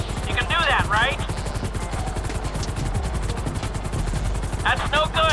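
Rapid machine-gun bursts fired from a hovering helicopter in the video game GTA 5, a dense rattling stream of shots over the constant chop of rotor blades.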